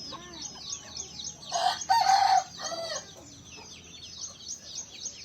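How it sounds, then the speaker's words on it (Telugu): A native country rooster crows loudly and close, mixed with clucking and chirping from young country chicks around it in a farmyard setting. "ఇది మన పుంజుగాడు"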